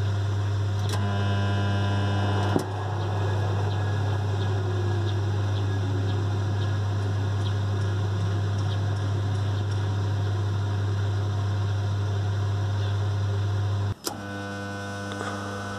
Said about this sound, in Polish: Dmuchawa działa.